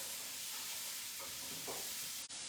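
Onions and spices cook in a pan for slow cooker pinto bean chili, giving a steady, soft sizzle with faint stirring, quiet and close, with no talking.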